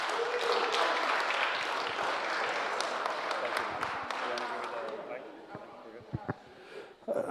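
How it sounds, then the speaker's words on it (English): Audience applause for Senator Chris Barnett at a resolution presentation, a dense sustained clapping crowd that thins toward the end into a few scattered claps, with voices murmuring underneath. "One more round of applause for Senator Barnett"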